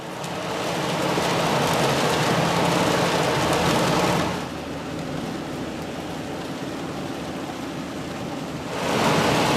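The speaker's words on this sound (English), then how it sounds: "It's raining" Steady rain hisses loudly near Toronto, easing briefly in the middle before surging back to full strength near the end, with no voices.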